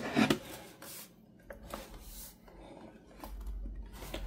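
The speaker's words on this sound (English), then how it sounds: "now it's time to put back the bottom case" Plastic bottom case of a Dell Precision 7670 laptop being fitted back on, giving a few soft rubs and light clicks, one sharper knock near the start, close and quiet with no talk.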